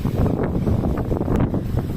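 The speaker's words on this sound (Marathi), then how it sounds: "वारं खूप सुटतंय, वारं डायरेक्ट खेचतंय माणसाला." Strong gusting wind during a sudden village storm with unseasonal rain, a loud rumbling roar buffeting the microphone throughout.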